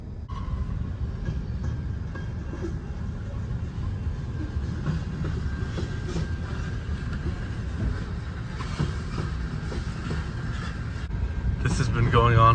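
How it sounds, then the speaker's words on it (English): A massive freight train rolls past a waiting car on a Mississippi railroad, a steady, continuous rumble and wheel clatter that stays loud and unbroken throughout, swelling slightly near the end. "Gotta wait for this massive freight train to pass though,"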